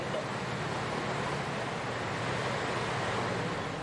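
Loud, steady rushing of floodwater surging across a flooded crossing in Muara Gembong, Bekasi, a continuous broadband roar with no breaks, close and wind-buffeted.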